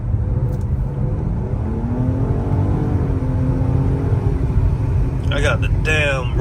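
Car engine with a roadkill-style exhaust setup, a deep continuous rumbling drone with rising and falling rev tones, heard close and loud while someone talks over it.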